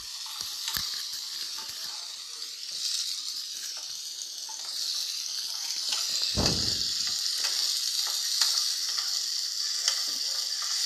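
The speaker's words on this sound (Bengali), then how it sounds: "এবার আমি এর মধ্যে টমেটো আর কাঁচা লঙ্কা ছেঁড়া দিয়ে দেবো। দিয়ে একটা ভালো করে নাড়তে থাকবো।" Tomato and torn green chillies frying in a pan make a bright, hissing sizzle close by, broken by occasional spatula clinks and one brief low thump, with no voices.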